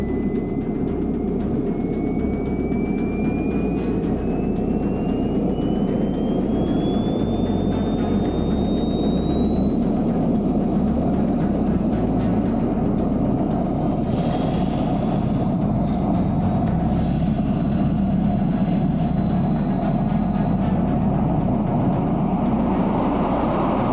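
A jet-powered wagon built for a speed record runs its engine with a loud, unbroken roar, while a high whine climbs steadily in pitch as it spools up throughout.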